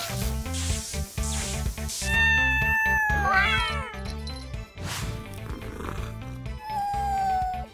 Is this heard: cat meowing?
yes